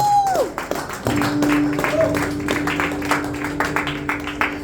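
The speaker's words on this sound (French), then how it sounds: "on peut l'applaudir, bravo." Audience at a live singalong cover applauding a participant from the crowd, brisk clapping over sustained keyboard tones, with a voice heard early on.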